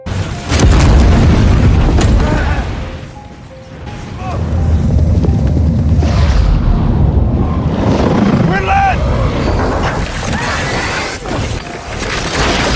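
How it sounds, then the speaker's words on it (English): A nuclear bomb detonates in a TV drama series, a deep rumbling boom that swells and rolls on for many seconds, loud and sustained with crashing debris and wind-like roar, mixed with dramatic sound effects. "The explosion's power swept through the entire city."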